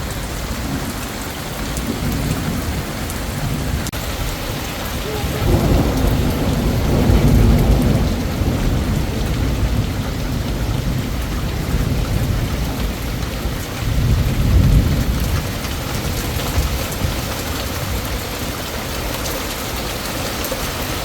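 A heavy downpour in Canada drums steadily on surfaces while low rolls of thunder swell twice, once around the middle and again later, the rain loud and continuous throughout with no voices.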